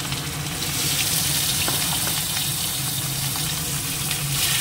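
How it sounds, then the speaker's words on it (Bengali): Fish pieces fry in hot oil in a home kitchen, giving a dense, loud, continuous sizzle close up with a few faint crackles and no talking. "এবার মাছগুলো ফার্স্টে দিয়ে দিচ্ছি একে একে"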